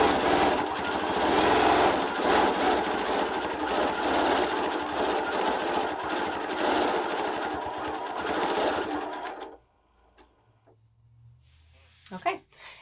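A Janome M8 sewing machine stitches at full speed with its ASR stitch regulator, giving a loud, fast, steady mechanical whirr and needle chatter for about nine seconds before stopping abruptly, followed by quiet handling and a brief clunk.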